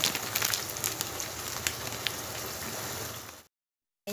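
Mutton sizzles while being sautéed in a pan for Bengali mutton kosha, a steady crackling hiss with scattered pops that runs for about three and a half seconds before cutting to silence.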